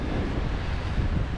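Wind buffets a microphone outdoors on a breezy day, a loud, steady low rumble that runs the whole moment with no other clear sound.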